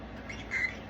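A pet conure parrot gives a short, faint squawk in a quiet room, a single brief call.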